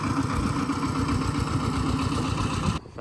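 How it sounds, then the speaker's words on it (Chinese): A tractor engine chugs in a steady, loud, close rhythmic throb for nearly three seconds, then cuts off abruptly. "拖拉机"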